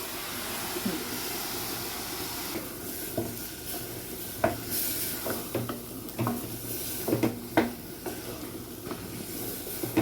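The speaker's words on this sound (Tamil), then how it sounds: "வேக வச்ச பயிர், சீரகத்தூளும் மஞ்சத்தூளும் இதிலே போட்டுக்கிறோம்." Cooked field beans (vari mochai) with cumin and turmeric powder being stirred in a pan with ground tomato, giving soft scraping stir strokes and light sizzle at a steady, irregular rhythm, close and fairly quiet, with no talking.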